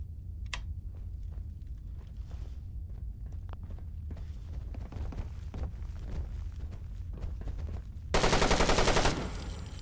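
Gunfire from a weapon in the video game Fallout 4, with scattered single shots and footsteps giving way to a loud sustained burst of automatic fire near the end, with no talking.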